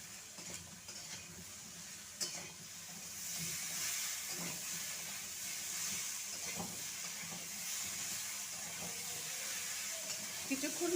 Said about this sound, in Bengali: হলুদ গুঁড়ো কিছুক্ষণ ভালো করে ভেজে নেব